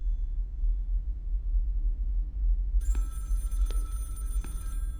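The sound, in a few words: telephone ringing in video game Project Looking Glass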